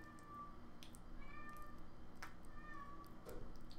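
A cat meows several times, fairly faint and somewhat distant, in a workshop during ocarina making, against a low steady background hum.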